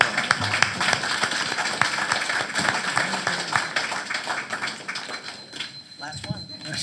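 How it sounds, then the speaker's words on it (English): Audience applause for a candidate at a community forum, a crowd of moderate claps blending with background voices and fading toward the end. "so you get a second round of applause"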